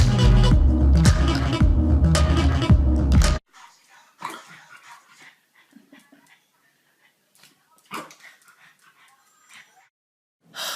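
A dog yips and whimpers in short, scattered bursts with quiet gaps between them, following a few seconds of loud music at the start.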